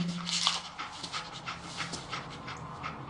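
Dogmeat, the German Shepherd companion in Fallout 4, pants steadily up close with soft rhythmic breaths and a faint whimper early on, without any talk.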